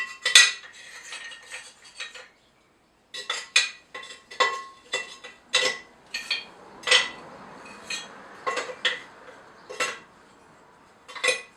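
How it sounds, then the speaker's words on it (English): Broken bits of pot are dropped into the bottom of a plant pot, producing a series of crisp ceramic clinks and clatters at uneven intervals, close and distinct, with a short silent pause early on. "I'm going to put some of these broken bits of pot in the bottom just to fill it up a bit"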